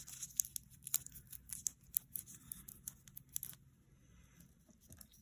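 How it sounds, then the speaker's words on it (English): Tape tearing and crinkling as it is pressed onto a bead necklace: a string of quick crisp rips and rustles up close and quiet, then the sound fades to near silence. "I'm gonna put a little more tape on there."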